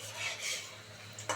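Banana flower (mocha) chops fry in hot oil in a pan and are turned over. A steady close sizzle runs throughout, with a sharper utensil clatter near the end.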